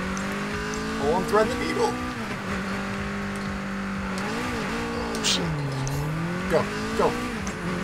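A race car cornering with the e-brake held in the Super Street racing game, steady engine drone shifting pitch through turns with brief tire squeals, under a player's excited talk.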